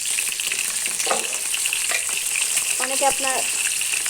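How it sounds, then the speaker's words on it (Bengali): Egg frying in a pan with turmeric and salt, a steady close sizzle running throughout while a voice speaks briefly over it. "ডিমটা ভুনা করি আমি। আর একটু হলুদ আর একটু লবণ দিব।"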